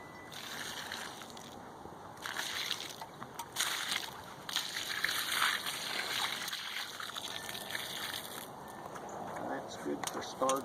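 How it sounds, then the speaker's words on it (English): Water gently poured around the base of a newly planted American dogwood tree, a soft trickling and splashing into soil that runs steadily through the whole stretch, with voices talking in the background. "you want to just gently pour that water just the whole way around there"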